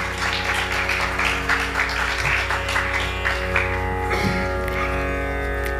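An audience at a Bharatanatyam arangetram applauds the musicians, steady dense clapping over a sustained drone and hum of the stage sound system, with no voices.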